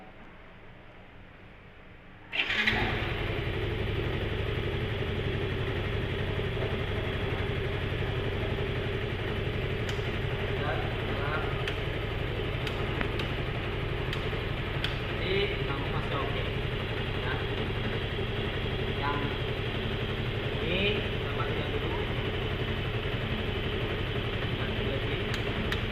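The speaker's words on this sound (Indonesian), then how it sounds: "Mesin kita nyalakan." A vehicle engine starts abruptly after a quiet moment, then settles into a steady, close idle that runs evenly for over twenty seconds, with faint clicks and rattles over it.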